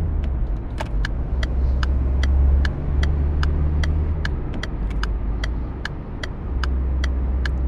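A Volkswagen Passat in the driving game City Car Driving revs hard, its engine droning loud and steady with rhythmic ticking clicks layered over the low hum.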